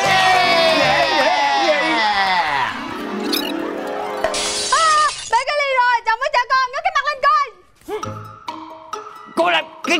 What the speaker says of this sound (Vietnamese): bể cái ly rồi